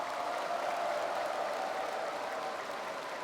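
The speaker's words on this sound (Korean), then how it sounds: "박수로 격려해 주시기 바랍니다" Steady, dense applause from a large audience at a Korean political party convention as a party leader enters. It holds at an even level with no voices standing out.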